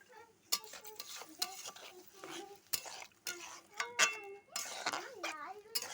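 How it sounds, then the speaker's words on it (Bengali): Fried greens and soybean curry being stirred in a pan, intermittent scraping and clattering of a utensil with faint sizzling, a child and an adult talking over it at low level. "ভালো করে নেড়ে নিচ্ছি।"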